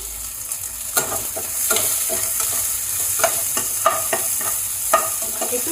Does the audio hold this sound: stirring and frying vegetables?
yes